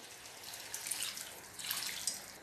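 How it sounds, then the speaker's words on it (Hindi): Half a cup of water poured into a stuffed eggplant masala in a cooking pan, a faint, brief splashing trickle close by with no talking. "1/2 कप इसमें पानी डाल देंगे हम।"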